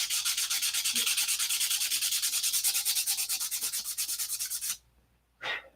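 Sandpaper rubs back and forth in quick, even strokes, close and loud. A rapid scratchy rhythm runs without pause for nearly five seconds, then stops and is followed by one short final stroke.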